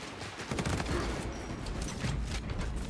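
Heavy bolt pistol fire in a Warhammer 40,000 video game, a dense rattling fusillade of rapid shots running steadily throughout at a loud, even level.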